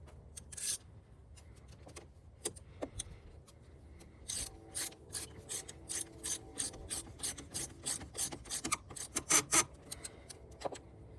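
A ratchet tightens the battery terminal clamps on a Nissan Maxima, with bursts of quick clicking strokes that start sparse and grow into a fast, steady run of ratcheting close by.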